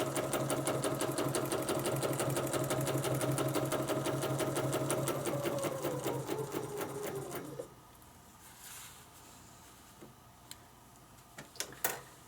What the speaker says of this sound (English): I'm just gonna take a couple of stitches to get back on the template.